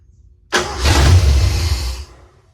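A 1986 Ford F150 that sat unused for years cranks and tries to start, a sudden loud rumbling burst with strong low churning lasting about a second and a half, then dropping away.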